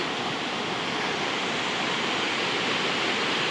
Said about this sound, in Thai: ถึงแล้ว น้ำตกชั้นที่สาม